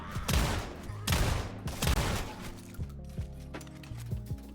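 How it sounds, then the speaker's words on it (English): Pistols converted to shotguns fire in a video game as heavy booming blasts, three loud shots in quick succession followed by a few softer thuds, with a low tonal game hum underneath. "The recoil on these guns is crazy, dude."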